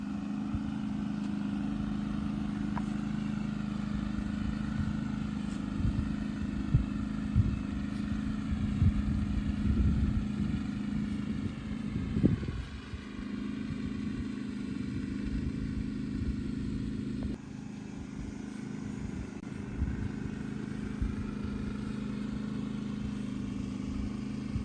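A zero turn mower engine runs steadily at a moderate distance while a winch on a trailer pulls, with occasional clattering and knocks over the continuous drone.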